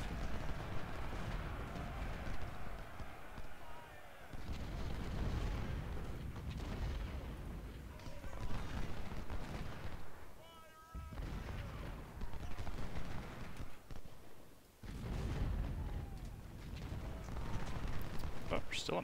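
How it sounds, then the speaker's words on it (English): Rifle fire in the Civil War strategy game Ultimate General, dense volleys of musketry and rolling gunfire crackling in waves with deep booms mixed in, continuous battlefield roar rising and dipping. "I need to take rifle fire"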